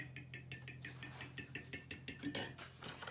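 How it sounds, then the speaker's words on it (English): A spoon clinks rapidly against a jug while an egg is stirred into 150 millilitres of milk for fruit scones. The quiet, quick, rhythmic metallic taps play alone. "In your jug with your milk, 150 millilitres, you're going to add the egg and give it a stir"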